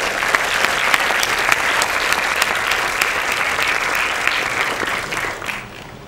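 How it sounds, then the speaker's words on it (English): Audience applause at a university awards ceremony, the Faculty of Medicine Colours Awards at the University of Colombo: dense, sustained clapping from a large crowd that holds steady for about six seconds before easing off at the end. "I think he deserves a round of applause."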